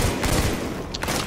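Loud, dense gunfire from Tom Clancy's The Division video game rattles in a continuous volley, with overlapping shots blurring into one sustained burst for just over a second.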